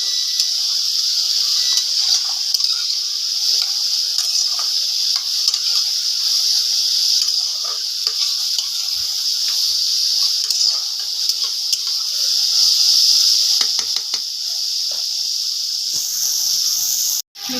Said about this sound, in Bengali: এবার বন্ধুরা এটাকে একটু ভাজা ভাজা করে নেব।